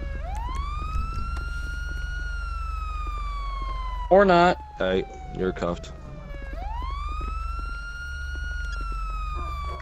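A police car siren in the GTA 5 video game wails in long rising and falling sweeps, loud and close, broken midway by a short burst of talk before the wail starts up again.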